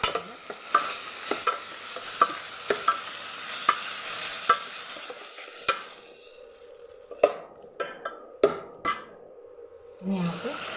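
Okra sautéing in a pan for a quick buttermilk curry, with a steady sizzle and a regular series of spoon scrapes and taps against the pan, then sparser, sharper knocks toward the end.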